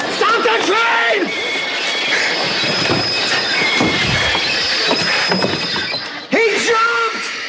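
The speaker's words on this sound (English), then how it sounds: "Stop the train!" A train's steel wheels squeal loudly and steadily as the brakes bite during an emergency stop, with rumbling carriages beneath and excited voices over the noise.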